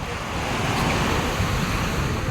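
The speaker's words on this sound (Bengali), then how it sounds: "উত্তাল সমুদ্র," Rough sea surf breaking on Digha beach keeps up a steady, loud broadband wash with wind noise on the microphone and no voices.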